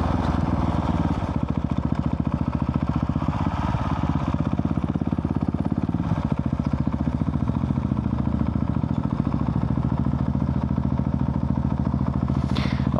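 A Husqvarna 701 motorcycle fitted with an Arrow exhaust and quickshifter drones steadily while riding, a loud continuous engine note with a rough pulsing texture and a brief rise near the end.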